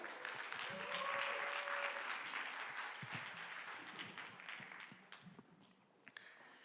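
Audience applause rises to welcome a preacher at a Korean church's high school youth worship service, a dense, steady clapping that holds loud for a few seconds before tapering off into scattered claps.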